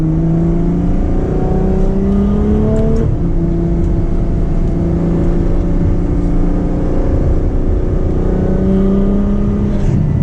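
Ferrari F12 with its V12 driven hard in manual mode, a loud continuous engine drone with rising rev sweeps and a sharp gear change partway through, steady under road noise with no voices.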